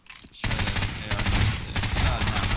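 Rapid automatic gunfire from a customizable weapon in the video game Garry's Mod, a loud continuous burst of shots after a brief quiet start, with a short break midway before firing resumes.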